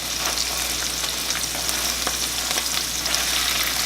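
Canned asparagus frying in a pan of hot oil, giving a steady dense sizzle with scattered sharp spattering pops throughout, close and fairly loud, no voices.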